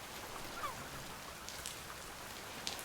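Rain hisses in the Oceaneers video game, a quiet, even patter of drops lasting a few seconds with a couple of faint ticks and no voices.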